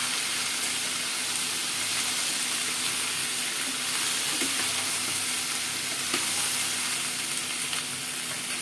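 Dosa pieces are roasted in a pan, giving a continuous even sizzle with occasional soft stirring scrapes, close and steady throughout with no one talking.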